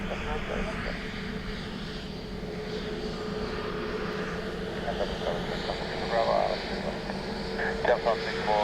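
A fixed-wing aircraft's engines drone steadily at Dublin Airport as it lands on runway 28 left, a continuous mid-distance roar with air traffic control radio talk running over it.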